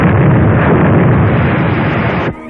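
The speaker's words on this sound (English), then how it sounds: "That's a 3-inch shell they're firing at us." A 3-inch artillery shell explodes nearby in a 1940s film scene, a loud, sustained roaring blast of rumbling noise lasting about two seconds before cutting off abruptly.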